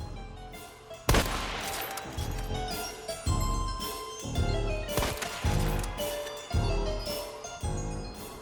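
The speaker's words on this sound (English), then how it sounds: "I then blind fire into the explosion" Gunfire in Hunt: Showdown, a series of loud, sharp shots at irregular intervals, each followed by a ringing tail and debris clatter, close and dominant, with no talking.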